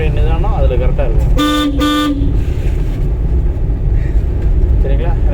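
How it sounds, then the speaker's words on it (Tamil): Two short car horn honks sound close together inside a car during a driving lesson, set against steady road and engine rumble, with people talking before and after. "ஹார்ன் அடிக்கணும்."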